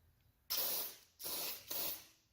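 Lubricant sprayed onto garage door joints in three hissing bursts, the first longer, the next two shorter and close together, loud and near against a quiet background.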